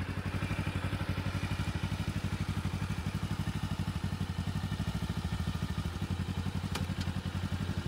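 A motorcycle engine chugs in a rapid, even pulse at low revs near a learner rider controlling a launch from a stop, steady and moderately loud throughout with no voices.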